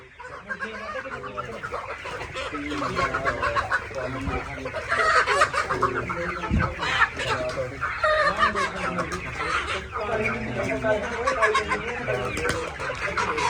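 Chickens on a desi poultry farm cluck and squawk loudly and continuously as egg trays are opened, a busy flock noise with some louder calls near the middle and a voice talking at times beneath it.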